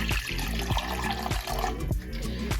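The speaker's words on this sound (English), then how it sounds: "I'm going to start off by adding 2 cups of water to my pot." Two cups of water pour into a cooking pot on a stovetop, a close, steady splashing gurgle with rhythmic glugs, heard alone for under three seconds.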